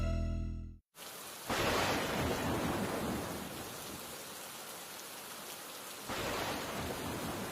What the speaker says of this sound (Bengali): আরে এখনই বৃষ্টি নামতে হলো